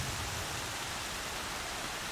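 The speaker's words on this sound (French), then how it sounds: "Et il se met à pleuvoir" Rain falls steadily in the video game Horizon Zero Dawn as a dense, even hiss that fills the whole stretch, with no voices and no breaks.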